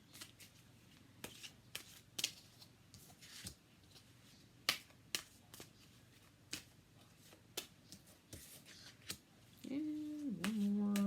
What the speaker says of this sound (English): It makes it a lot easier to shuffle these.